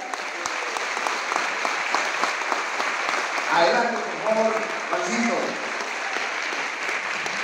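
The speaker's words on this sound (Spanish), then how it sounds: "Un aplauso para él." A stage audience applauds to welcome a guest, steady clapping throughout while someone speaks over it through a microphone.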